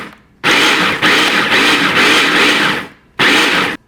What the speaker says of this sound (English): Do a pulsing a few times to make sure the cracker that didn't get grind to go down the middle